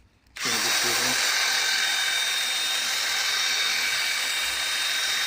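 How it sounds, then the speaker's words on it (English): After a brief quiet start, an electric drill in a workshop whirs up and runs continuously at a steady high pitch, loud and close, with no talking. "And what I'll do now is start to drill."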